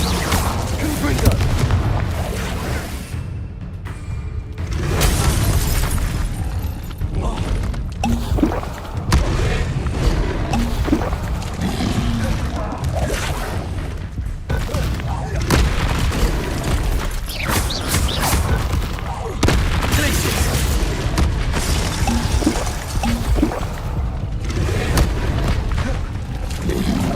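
Repeated Confringo explosive spell blasts from Hogwarts Legacy, booming bursts layered over continuous battle noise and effects, loud and dense throughout with a voice talking at times.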